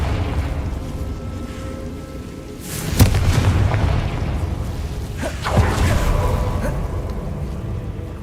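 Bombarda and Confringo spell explosions in the Hogwarts Legacy video game: two heavy booming blasts roughly two and a half seconds apart, each with a whooshing burst, over a constant rumbling game ambience.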